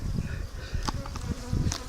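Bees buzzing steadily and close during a beehive inspection, a dense continuous drone with individual insects flitting past.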